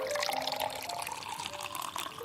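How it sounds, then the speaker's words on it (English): Brandy poured in a Christmas Eve fireside audio drama scene, a steady close liquid trickle that runs continuously and alone, with faint dripping and a splashy, bright tone throughout. "Pour some of this delicious brandy and warm yourself by the fire."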